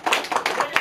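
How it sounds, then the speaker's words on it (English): Convention crowd clapping, a brief run of a few distinct, fairly close hand claps in an uneven rhythm. "a big round of applause for all of you."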